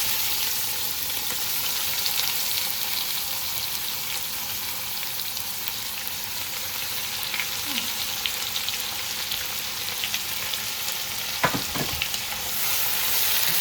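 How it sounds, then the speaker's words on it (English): Onions frying and slowly caramelizing in a pan for a Bihari mutton curry, a steady close sizzle running throughout with light stirring and no talk. "So we will caramelize the onion till it turns brown."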